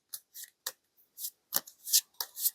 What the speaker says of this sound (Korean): 마지막 카드를 뽑아보도록 할게요